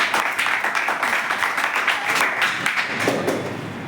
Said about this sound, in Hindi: सबसे पहले बलराम के लिए जोरदार तालियां।